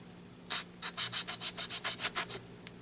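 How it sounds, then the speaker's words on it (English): A hand saw cuts V-shaped grooves into insulation foam for terrain building, about ten quick rhythmic rasping strokes, close and alone with no talk. "I'm going to use that sawing motion again."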